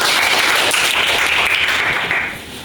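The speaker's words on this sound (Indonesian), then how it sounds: "Tepuk tangan dong." A roomful of people clapping together, loud and dense, sustained before tapering slightly at the end.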